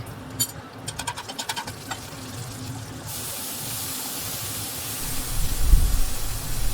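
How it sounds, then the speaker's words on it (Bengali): Green chillies and nigella seeds sizzle in hot mustard oil in a kadai, a steady broadband hiss that swells louder after a few seconds and keeps spitting continuously. "এবার কড়াইতে সর্ষের তেল দেবো, তার মধ্যে কাঁচা লঙ্কা আর কালো জিরে ফোড়ন দিতে হবে।"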